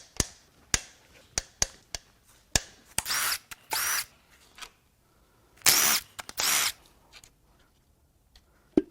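Bursts of a power tool, likely an impact wrench, loosen connecting rod bolts on a failed GM 6.0L Silverado V8, with sharp clanks and taps between several whirring runs at close range and no talk.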